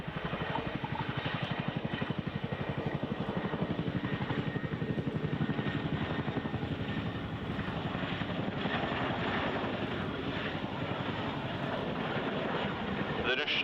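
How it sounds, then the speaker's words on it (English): A Chinook helicopter flies with a quad bike slung beneath it at an RAF Cosford display, its heavy rotor thud beating loud and steady throughout under wind rush, with a voice faintly audible. "Chinook is used in operations moving stores, freight and vehicles everywhere from Afghanistan to Whaley Bridge."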